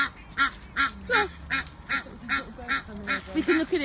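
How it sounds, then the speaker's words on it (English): Goose honking loudly and repeatedly near a group of geese with chicks, a rhythmic series of harsh, nasal honks about twice per second, close by and without talk. "we've got a noisy goose"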